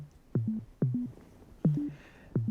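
Four punchy low-pitched bass hits built from tom and snare sounds, each a short booming note with a quick pitch step, spaced at an uneven rhythm, clean and alone.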